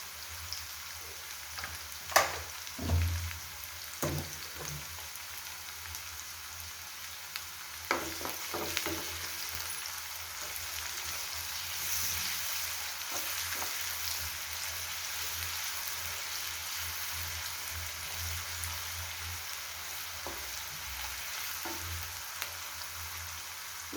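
Salted onion pieces browning in a pan for a prawn and gongura curry, a soft continuous sizzle with a few louder stirring clatters early on, then a steady, quiet frying hiss.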